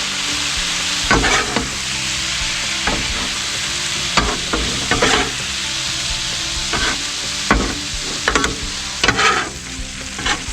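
Brussels sprouts sizzling steadily on a hot Blackstone griddle as they caramelize, with intermittent scraping and tossing clatters of a spatula over the constant loud frying hiss.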